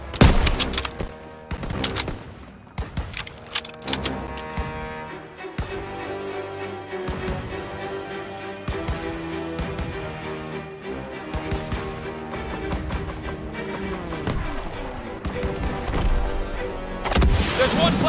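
Rapid battlefield gunfire and flak cannon bursts in the World War II video game Call of Duty WWII, dense and loud throughout, with cracking shots and booming blasts and excited voices shouting now and then.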